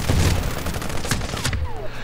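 Dense gunfire in the Warfighter video game: rapid overlapping shots and bursts crowding the whole stretch, loud and continuous, thinning slightly toward the end.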